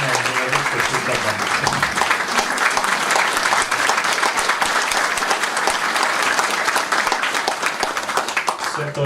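Loud, dense applause from a crowd at a Bizeljsko buckwheat cake (ajdov kolač) event, steady clapping that fills the whole stretch without a break.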